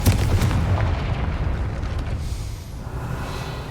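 A Confringo blast spell explodes in Hogwarts Legacy, a loud, deep booming burst that rolls on as a sustained rumble and slowly fades, with no talk over it.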